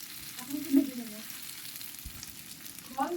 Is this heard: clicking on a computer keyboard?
no